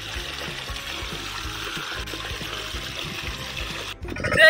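Water from the pipe of an 8 hp diesel water pump, gushing in a steady, even stream, with a faint rhythmic thumping from the diesel engine underneath and a sudden louder splash at the end.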